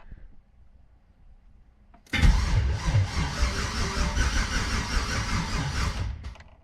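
Turbocharged LS V8 engine cranks briefly, then catches and roars into a loud, steady, rough idle close by, running for several seconds before cutting off.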